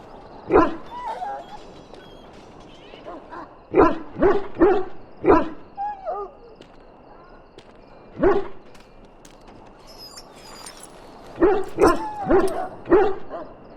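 A dog penned up in the fantasy role-playing game Dragon Age: Origins barks and yelps in short bursts, singles and quick clusters of three or four, close and loud with whimpery tones between.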